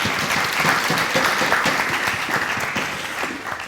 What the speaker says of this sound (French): Afousatou, qu'on applaudit maintenant très fort.